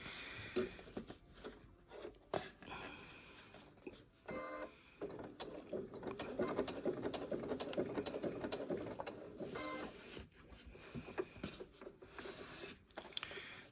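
A sewing machine stitching a mistletoe and holly Christmas tree skirt, with a steady mechanical whirring and rapid needle chatter running in uneven stretches and short pauses, close and fairly quiet.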